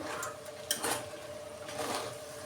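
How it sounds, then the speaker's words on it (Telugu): Raw banana pieces are stirred in a pan after salt goes in, with a few metallic spoon-on-pan clinks and scrapes over a soft background hiss and no talking. "రుచికి సరిపడా సాల్ట్ వేసుకొని కలుపుకోవాలి"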